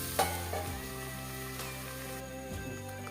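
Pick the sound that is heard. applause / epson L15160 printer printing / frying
frying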